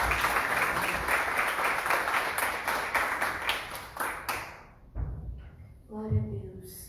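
Church congregation applauding together in a dense, steady wash of clapping for several seconds, fading out near the end as a voice and faint music come in.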